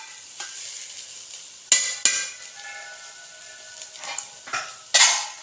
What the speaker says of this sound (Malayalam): ഇത് ഇളക്കുക, നല്ലോണം ഇളക്കിയിട്ട് ദമ്മില്ല.